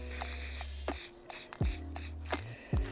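A spray paint can hisses in short bursts against a wall mural, several quick sprays close by, separated by brief gaps.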